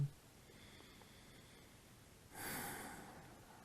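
A single audible exhale during a yoga pose in a vinyasa flow, a soft airy rush about two-thirds of the way through, surrounded by near silence.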